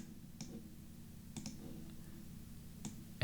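Mouse clicks on a desk while working in Photoshop, three sharp isolated clicks spaced about a second apart, near and crisp over a low steady background hum.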